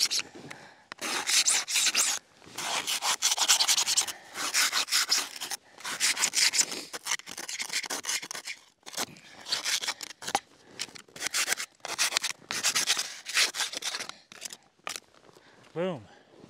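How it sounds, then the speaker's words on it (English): Plastic scraper rasps repeatedly across snow on the top sheet of a splitboard during a backcountry transition, a run of close, rough scraping strokes in irregular bursts with short pauses between them. "take your scraper, which is hopefully in your pocket, and scrape all the board, all the snow off the top of your board"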